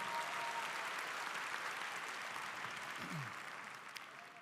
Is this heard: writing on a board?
no